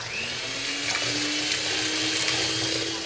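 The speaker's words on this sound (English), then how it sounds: "electric whisker, electric beater" Electric hand beater whirring steadily at high speed through egg yolks and sugar for a lemon meringue pie, a continuous motor whine with a rising tone, no talking.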